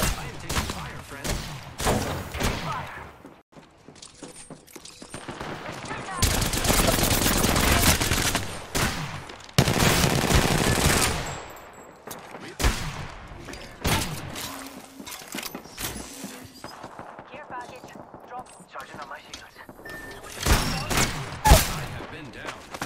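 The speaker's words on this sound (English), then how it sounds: "I am taking fire, friend." Gunfire in an Apex Legends arena match, with repeated bursts and volleys of shots coming in loud, dense stretches broken by brief lulls, while a player talks over parts of the fighting.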